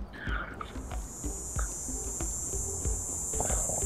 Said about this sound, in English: You cannot shoot the cicadas.